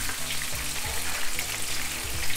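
Whitebait (netholi) frying in hot oil, a steady bright sizzle and crackle with a few soft low clunks of stirring, close and continuous.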